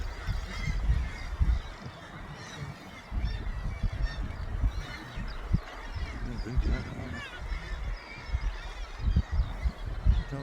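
Gannets call in harsh honking bursts across the cliffs of the Bempton Cliffs seabird colony at Flamborough, a busy overlapping chorus with people talking nearby underneath.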